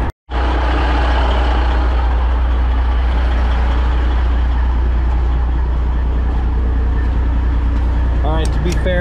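An old Freightliner Cascadia truck hauling cattle drives steadily with a loud, continuous low engine drone and road rumble, a brief dropout near the start and a few faint beeps near the end.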